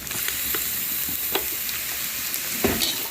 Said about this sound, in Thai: ไข่เริ่มสุกก็ใส่หน่อไม้มาผัดครับ